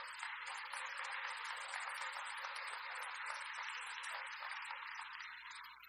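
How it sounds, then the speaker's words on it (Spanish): A church congregation gives a loud, sustained round of applause during a Spanish-language thanksgiving service, a dense steady wash of clapping that lasts about six seconds before easing off at the end. "Vamos a darle un fuerte aplauso al Señor."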